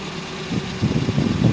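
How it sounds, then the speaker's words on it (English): A Nissan 240SX car engine idles with a low, uneven rumble that grows a little rougher and louder over the brief moment. "You can hear it start up and run."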